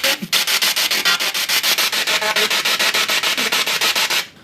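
Rapid, evenly pulsing bursts of radio static from a P-SB7 spirit box sweeping with its FM antenna connected chop along steadily, several per second, loud and continuous, with no voices coming through.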